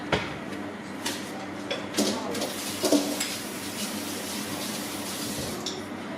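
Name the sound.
stirring muffin mixture with a wooden spoon in a bowl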